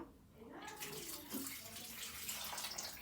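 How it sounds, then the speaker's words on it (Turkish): Water is poured from a container onto potted plants, one of them a grapevine, making a continuous close splashing and trickling stream for about three seconds. "size bu kadar su yeter size. Mükemmel. Şuna dökeyim. Buna dökeyim."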